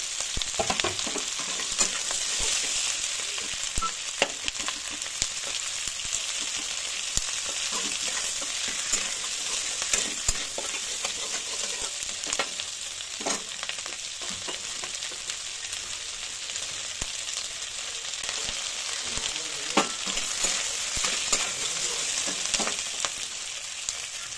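Capsicum pieces stir-fried in a hot pan for homemade chilli chicken, giving a steady close sizzle with scraping stir strokes throughout and no talking.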